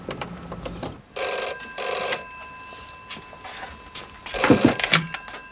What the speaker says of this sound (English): I am shaking and the phone's ringing.